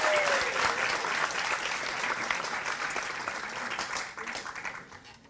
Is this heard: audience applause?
yes